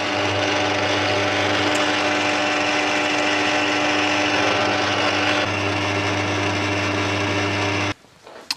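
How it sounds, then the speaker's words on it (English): A power drill bores 8mm dowel holes into wooden gnome pieces, a steady loud whine running continuously for about eight seconds before cutting off abruptly. "I need to drill an 8mm hole in each one of these"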